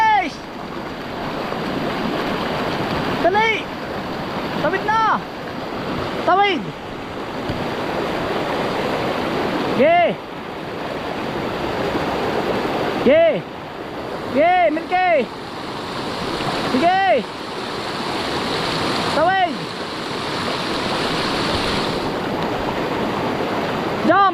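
A flooded river rushes steadily throughout, a loud continuous roar of water. Voices call out repeatedly over it.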